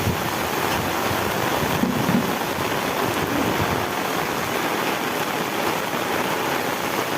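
Heavy rain falls steadily in a village, a dense, unbroken hiss that stays loud and constant throughout with no voices.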